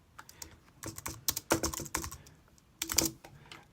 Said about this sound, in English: I'm going to just type script